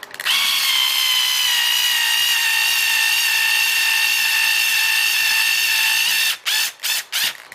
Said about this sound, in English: The last one of these 6 screws in the bottom of this transfer case.